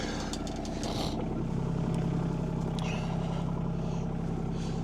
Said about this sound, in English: All right, gonna do some backhoe work.